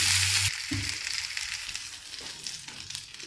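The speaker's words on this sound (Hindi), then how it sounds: "अब हम इसको भून रहे हैं" Ingredients being dry-roasted in a pan for panjiri, a close hissing sizzle with scraping stirring strokes, louder at the start and settling into a steady quieter crackle.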